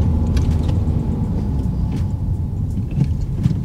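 A car engine drones and rumbles steadily from inside the cabin as the learner presses the accelerator during a first driving lesson, a continuous low hum with no speech over it.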